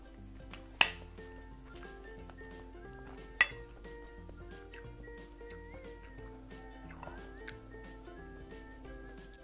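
An egg frying in a pan for a quick late-night student meal gives a faint, steady sizzle under tonal background music, broken by two sharp clinks.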